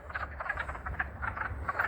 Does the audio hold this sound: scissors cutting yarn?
no